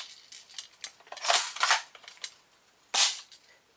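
A spring-powered Cottonmouth KA-74 BB gun fires, heard as a few sharp clicks and snaps, with one clear loud crack near the end standing alone in a quiet room.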